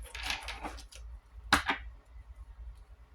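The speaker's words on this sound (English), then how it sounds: "I'm just shuffling Aquarius cards." Tarot cards being shuffled by hand, a brief crisp riffle of card edges snapping against each other after some soft rustling, close and fairly quiet with no talking.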